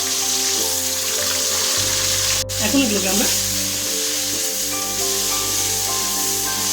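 Potatoes, 300 grams of them, frying in hot oil in a wok for chicken ghugni, a steady close sizzle with stirring and a brief clatter, while a person talks briefly over it.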